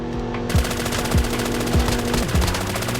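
Automatic M13 rifle fire in Call of Duty Mobile, a sustained loud rattling burst of rapid shots with a few heavier thumps spaced through it and no talk over it.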